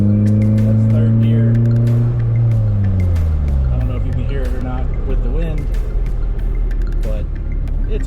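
A Honda CRX with an aftermarket exhaust drives with the windows down, its engine droning loudly from inside the cabin and rising then falling in pitch through the gears, while someone talks over it.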